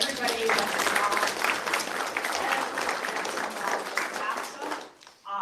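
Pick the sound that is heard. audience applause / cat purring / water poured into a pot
audience applause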